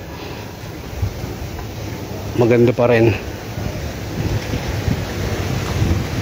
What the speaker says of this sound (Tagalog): Lakas ng hangin, no?